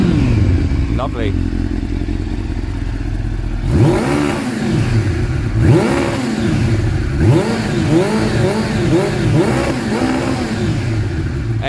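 A warmed-up Suzuki GSX-R 600 SRAD motorcycle with an aftermarket exhaust idles and then revs repeatedly, loud and close, its engine note sweeping up and falling back in a series of sharp throttle blips.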